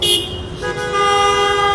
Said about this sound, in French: Ça leur sert à quoi de klaxonner?